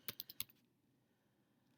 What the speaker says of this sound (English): So we're going to type in Visit